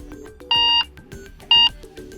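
Snoozer alarm tone on an Alcatel 1SE Lite phone, two loud electronic beep bursts about a second apart over a softer background melody, heard close and clear.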